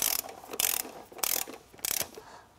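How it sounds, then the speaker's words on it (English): A ratchet wrench semi-tightens a bolt on a dual beadlock wheel for an ITP Cryptid tire, giving four loud, close bursts of rapid ratcheting clicks with brief gaps between strokes. "I'm just gonna sort of semi-tighten this just to sort of get it roughly into place"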